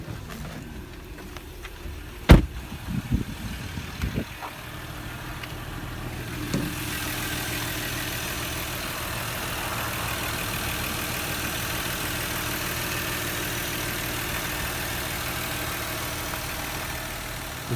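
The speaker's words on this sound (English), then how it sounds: "Now I'll pop the hood, let you hear the engine." A 2011 Porsche Cayenne's 3.6 liter V6 engine idles with a steady low rumble after a few sharp clunks and knocks at the start, running smoothly and continuously.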